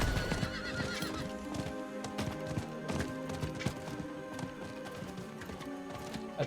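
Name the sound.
horse neighing and galloping, from the video game Diablo IV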